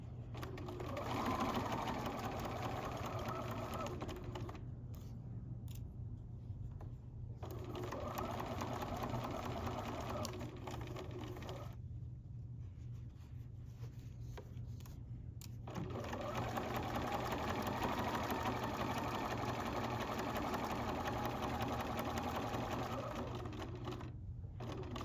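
Sewing machine stitching a book bag, its steady motor whir running in long bursts with a few brief pauses as the fabric is turned, close and alone without speech.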